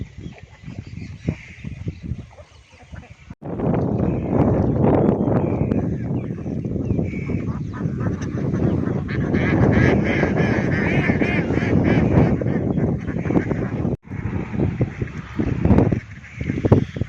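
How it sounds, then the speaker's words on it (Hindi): A group of duck ducklings chatters and quacks continuously nearby, a busy overlapping chorus of small calls over outdoor background noise in a village. "ये जी बत्तख के छोटे छोटे बच्चे हैं"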